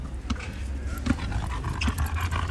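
A dog is pulled by its tail and lets out soft whimpers and panting under a noisy background, with a few brief yelps close by.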